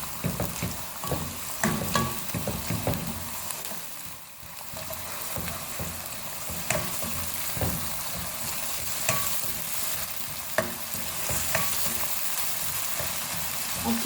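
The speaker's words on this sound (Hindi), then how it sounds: "अब जिंजर गार्लिक पेस्ट ऐड करेंगे, 2 टीस्पून है। प्याज के साथ ही फ्राई करेंगे।" Ginger garlic paste fries with onions in a hot pan, a steady sizzle broken by scraping stirs of a spoon against the pan, close and continuous.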